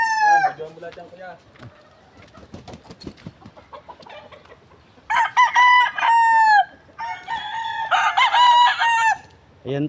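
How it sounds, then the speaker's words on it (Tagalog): Chickens clucking close by, then a rooster crows loudly twice in long, wavering calls, with scattered clucks and faint rustling between. "Nandito pa po yung iba nilang manok."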